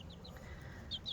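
Four-week-old cockerels with pronounced combs let out faint, thin, squeaky attempts at crowing, a few short high bursts over soft barnyard background.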